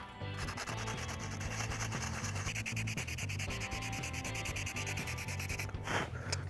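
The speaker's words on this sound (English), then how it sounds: "get to sanding." Steady back-and-forth sanding of a resin knife handle with 220-grit paper, close and continuous, with a rhythmic scratchy rasp of abrasive paper rubbing a hard surface, no voices.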